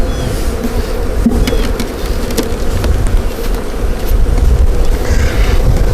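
Honeybees from a new package being installed into a hive buzz loudly and continuously up close, a dense, droning swarm hum filling the whole moment.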